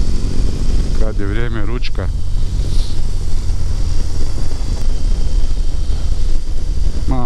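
BMW R18 Classic motorcycle riding along, its engine a steady loud drone with wind rumble throughout, a person speaking briefly over it near the start.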